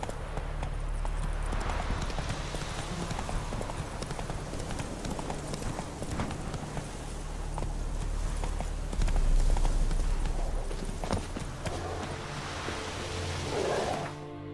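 Roach the horse's hooves in The Witcher 3, a quick continuous gallop of clip-clop beats over a washing, surf-like rush of wind and water, ending with a short snort.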